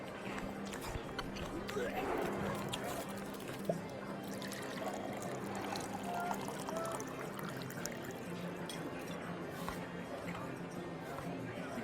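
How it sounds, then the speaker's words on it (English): A poured drink as a tabletop game sound effect, a soft wet trickle running steadily for several seconds, quiet and partly under people talking and background music. "The pouring drink. It's too wet."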